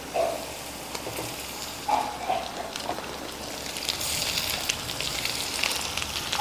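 Chopped tomatoes are added to onions frying in a pan for a kara kuzhambu, giving a soft, steady sizzle and crackle with a few light stirring clinks and no talk.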